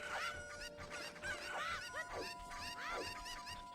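Chickens clucking in The Legend of Zelda: Ocarina of Time during a randomizer tournament, a jumble of squawks and clucks at moderate volume over a faint background hum.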